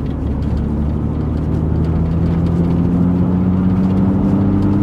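BMW Z4 fitted with a sound generator mod, driven in fifth gear around 38 mph under light throttle, giving a steady low droning engine hum with a faintly rising whir, continuous and close, no voices.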